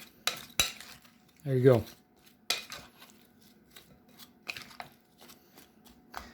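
A simple salad tossed in a bowl with utensils: a few sharp clinks and scrapes, a brief rustling toss of leaves, then scattered lighter taps, close and fairly quiet, with a short spoken remark.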